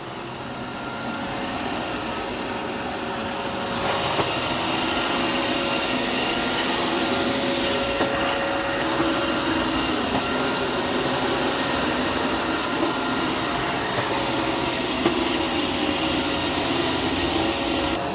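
Eufy robot vacuum and mop combo running, a steady loud motor whir and hum that swells slightly and holds constant throughout.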